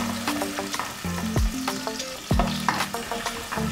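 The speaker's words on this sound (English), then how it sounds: "now I'm going to fry this a bit for about a minute so that the onion becomes a bit see-through and the juices come out" Onion sizzles and crackles in hot oil in a pan, loud and close, with the frying hiss broken by a couple of sharp metallic clanks and scrapes as it is stirred; no voices.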